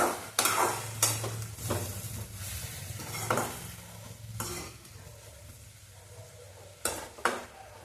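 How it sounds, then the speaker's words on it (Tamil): Drumstick leaves and onion sautéed in a pan, several sharp spatula scrapes and knocks against the pan over a steady soft sizzle, close by with no one speaking. "இப்போது ஒரு கைப்பிடி முருங்கைக்கீரை எடுத்து போட்டுக்கலாம் நல்லா வதக்கிக்கலாம்"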